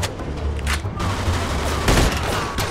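Gunfire rings out in a Mafia II city shootout, several sharp shots cracking in a rapid, uneven string at close range with a steady bed of ambient noise underneath.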